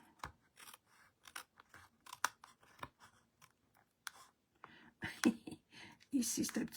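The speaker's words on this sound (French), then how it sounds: "On va tout couper en même temps." Scissors snip paper in quick, crisp cuts, sometimes through several layers at once, close up and fairly quiet, with a speaker talking intermittently between the cuts.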